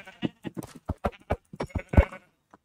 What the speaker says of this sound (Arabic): أنا سامع صوت خرفان